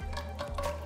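A spoon gives a brief stir to a vegan Swedish meatball sauce heating toward a simmer in a pan, producing soft scraping strokes over a low sizzle, quiet and close, with no talking.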